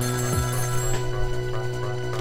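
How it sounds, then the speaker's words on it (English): A telephone rings in the video game Ghost Trick: Phantom Detective, a steady electronic ringing tone held over the game's background music, loud and unbroken, with no speech. "Oh, there's the phone."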